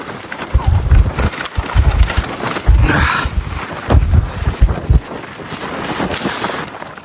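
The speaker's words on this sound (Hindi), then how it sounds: "बहुत तेज हवा आ रही है और टेंट उड़ने का बहुत ज़्यादा डर है।" Strong storm wind gusts roar and buffet the microphone at a riverside camp on the Indus River in northern Pakistan, loud and uneven, with flapping and rustling bursts from the camp around.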